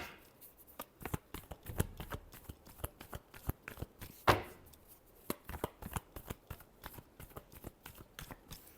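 Tarot cards being shuffled make quiet, rapid papery riffles and soft slaps in an uneven run of close, faint flicks, with no voice.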